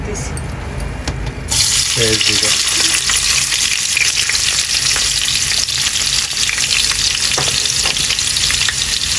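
Pangas fish or small phoney fish fries in hot oil, a loud continuous crackling sizzle close by after a quieter opening with a brief voice.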